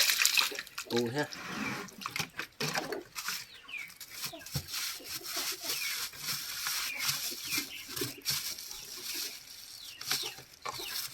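Water runs and splashes in uneven gushes nearby while people talk over it.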